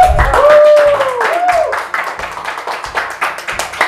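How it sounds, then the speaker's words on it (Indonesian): Audience applause at the opening of a street vox pop segment: a burst of clapping with a short whistle, loud and close, quickly thinning into scattered claps. "Minta tepuk tangannya."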